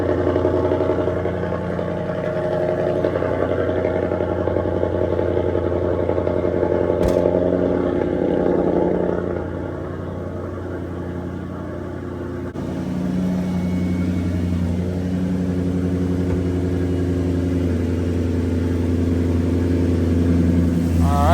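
A 2008 Maserati GranTurismo engine idles steadily and loudly, close by, with a continuous low rumble and a brief shift in tone midway.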